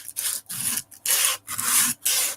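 Aluminum oxide sandpaper rubbed back and forth across a surface in five or six steady, close strokes with short pauses between them, giving a harsh, even rasp and no talking.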